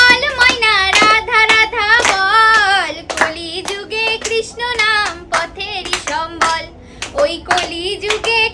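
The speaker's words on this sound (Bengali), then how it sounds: "জোরে হাততালি" Loud, rhythmic hand clapping keeps time under melodic singing of a devotional song at a Janmashtami song-name challenge, with sharp claps in steady runs through the whole stretch.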